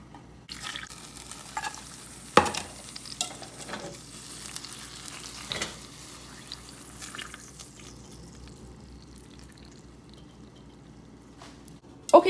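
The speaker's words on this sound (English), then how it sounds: "this is how the caramel turned out. It is breaking, as you can hear" Freshly poured caramel for a coffee flan crackling as it sets and breaks, with sparse sharp snaps and faint crackles scattered over a quiet background, a few louder pops near the start and end.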